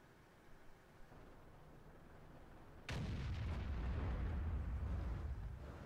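A Rheinmetall-Borsig Waffenträger tank destroyer's heavy gun fires once in World of Tanks, a sudden loud blast after quiet ambient rumble, followed by a sustained booming roar and low rumble.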